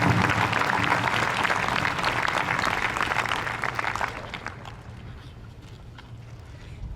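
Audience at a 2018 graduation applauding the award winners, a dense wash of clapping that holds strong for about four seconds and then thins and fades out.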